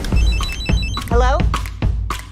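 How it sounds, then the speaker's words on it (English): A mobile phone rings with a repeating electronic chime, a few short tonal bursts heard close by amid speech and shuffling. "Oh no, I lost my phone. Here we go. Ringing."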